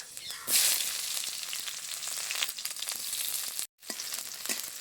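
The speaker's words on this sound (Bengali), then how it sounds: "কড়াটা আমি আবারও বসিয়ে দিচ্ছি, দিয়ে দিচ্ছি 2টো শুকনো লঙ্কা, 5 ফোড়ন, আর দিয়ে দেবো পেঁয়াজ কুচি।" Chopped onion, two dried chilies and five-spice frying in a hot wok: a loud, continuous close sizzle with a burst as ingredients hit the oil and faint stirring scrapes.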